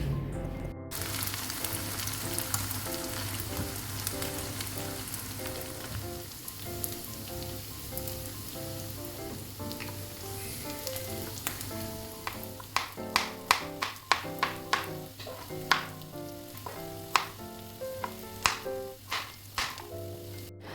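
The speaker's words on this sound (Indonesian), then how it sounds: "Nah ini lanjut aja Bun Ai langsung goreng kering untuk si tempenya." Tempeh deep-frying dry in hot oil gives a steady, close sizzle with a held tonal hum underneath, and sharp popping spatters cluster toward the end.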